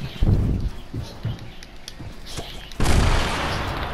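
An explosive detonates in Fortnite with a sudden loud burst that rolls into a sustained crackling roar, following scattered sharp booms and thumps under game chatter.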